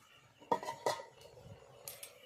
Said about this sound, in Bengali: দিয়ে আবারও ঢাকনা চাপিয়ে দেব